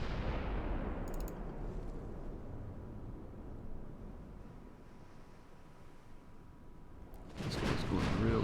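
Naval guns of España class battleships in Ultimate Admiral: Dreadnoughts fire across the deck, a deep booming salvo that fades into a long rumbling tail, followed by another loud blast at the end.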